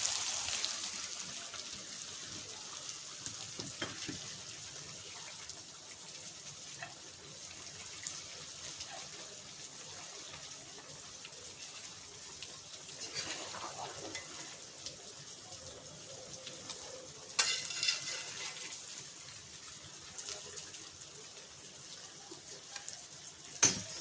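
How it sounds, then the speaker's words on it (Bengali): Soft, steady sizzling of onions frying in a pan, with a faint watery hiss and occasional light clinks, no voices. "আর এখানে আমি পেঁয়াজ ভাজছি, এই পেঁয়াজটা ওপর থেকে দিয়ে দেবো।"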